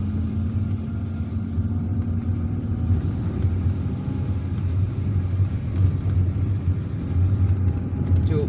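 A car drives through the streets of Algiers, its engine and tyres producing a steady, close road rumble that continues throughout.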